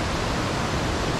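Bhatte Khola, a mountain river at about 1960 m on the Gosaikunda trek, rushing steadily as a dense, continuous close roar of flowing water with no talk.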